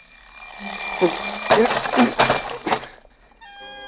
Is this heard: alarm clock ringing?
yes